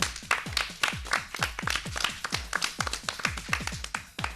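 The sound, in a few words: audience applause for the winning quiz team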